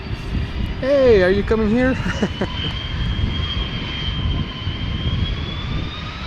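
A KLM Airbus A330 departs Schiphol for Washington with a sustained jet roar and a high whine that rises slowly; a person speaks briefly near the start over the engines.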